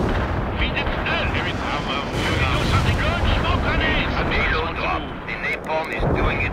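Bomb explosions in the World in Conflict Soviet Assault real-time strategy game, a dense continuous roar of blasts and rumbling artillery that stays loud throughout, with voices briefly mixed in.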